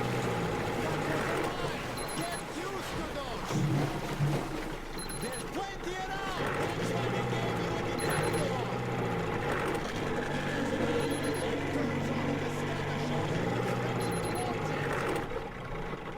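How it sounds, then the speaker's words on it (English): Vehicle engine in Metro Exodus drones steadily throughout at moderate loudness, a continuous rumbling hum with faint periodic chirps above and some voice under it. "Hold X to accelerate to full speed. Be careful, the engine sounds attract attention."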